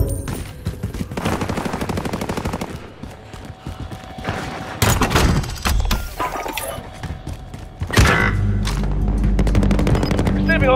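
Gunfire in Call of Duty Warzone on Rebirth Island, with bursts of rapid automatic shots and mechanical weapon clacks, loud and close, broken by short pauses and a heavy rumble near the end, with game voice callouts in between.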